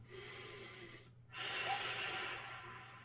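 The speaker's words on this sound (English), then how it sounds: "Take a couple of nice deep breaths to reward yourself." Deep breathing after a floor exercise in an advanced core strength and flexibility golf workout: a quiet inhale, a short silent pause, then a louder, breathy exhale nearby.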